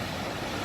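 The Firehole River and its waterfall in Yellowstone, with a steady, dense rush of flowing water close by, an even roar that holds throughout.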